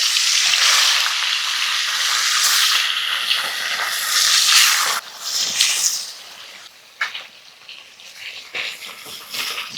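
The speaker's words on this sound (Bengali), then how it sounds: "তেল আবার ধোঁয়া ওঠা গরম করে মাছগুলো দিতে হবে" Fish dropped into smoking-hot oil in a heated wok for a village fish dish erupt in a loud, close, crackling sizzle that gradually settles into quieter spitting and popping.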